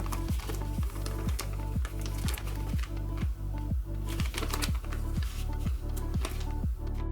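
A reusable plastic vacuum storage bag for 3D-printer filament is sealed by hand, with a rapid run of small regular clicks and crackles as the zip closure is pressed shut along its length, close and steady.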